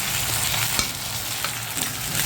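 Onions and ginger-garlic paste sauté in a pan with a loud, continuous sizzle. Occasional spatula scrapes and taps cut through as the mixture is stirred, and no one talks.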